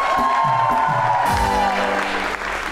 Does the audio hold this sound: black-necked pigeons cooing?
no